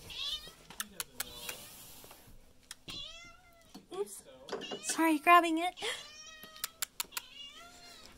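A cat meows several times, high and drawn out, while someone talks to it about its food; soft clatter and a door or drawer sound occur nearby.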